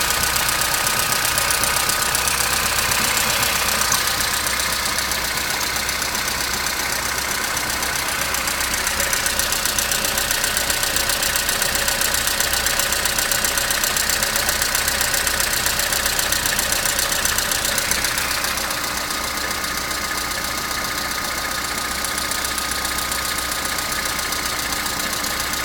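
Car engine idling after a cold morning start, a steady rattling drone with a persistent knocking tick, close and fairly loud throughout with no voices.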